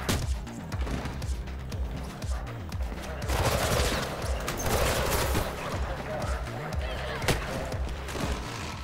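Gunfire aimed at the player in Mirror's Edge Catalyst, bursts of rapid shots and impacts crackling throughout, loud and close, with a voice talking intermittently over the action.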